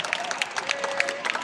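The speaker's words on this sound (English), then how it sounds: "Please, round of applause." Applause from an audience at a Palawan travel and trade expo, a short burst of scattered, moderately close clapping.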